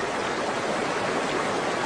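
A trickling creek flows over rocks in the Mpumalanga region of South Africa, giving a steady, even wash of water noise that fills the whole moment without pause, close and moderately loud, with no voices.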